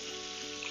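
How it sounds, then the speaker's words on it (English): Lamb pieces searing in hot oil in a frying pan, a dense, steady sizzle heard up close with no talking. "Put into the frying pan and make sure it's all sealing with the oil."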